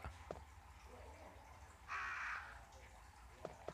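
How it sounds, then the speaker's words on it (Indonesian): Crow caws in the Resident Evil video game with Jill Valentine, a fairly faint harsh call burst in the middle against a low ambient drone, with a couple of soft clicks. "Kok ada burung gagak?"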